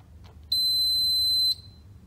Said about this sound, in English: One beep takes you out.